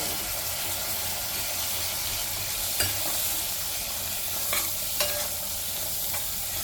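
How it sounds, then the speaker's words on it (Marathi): Spices with turmeric sizzling in hot oil for Gatari-style chicken sukka, a steady close frying hiss with a few soft stirring clicks and no talking. "आणि हे आता मसाले छान मी परतून घेणार आहे"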